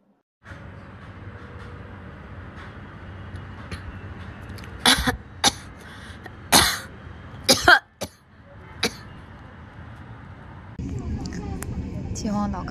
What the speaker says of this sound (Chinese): 呛的人只想咳嗽